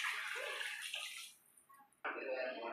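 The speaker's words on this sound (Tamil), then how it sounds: "இன்னும் ஒரு 200 ml மட்டும் தண்ணி ஊற்றிக்கலாம்" Water poured into a pot of rice for mutton biryani, a close splashing pour that stops briefly and then resumes strongly.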